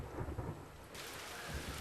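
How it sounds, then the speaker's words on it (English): Steady summer rain falls in Beijing in the evening, a dense even wash of drops on surfaces with low rumbling thunder beneath, heard alone with no voices. "But this evening, it's the Beijing summer rain, which most definitely is setting the mood."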